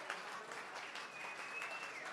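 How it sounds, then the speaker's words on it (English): Audience at a lumberjack gala keeps up a continuous round of applause for the crew, dense overlapping claps at a steady moderate level throughout. "Let's give these guys one more round of applause."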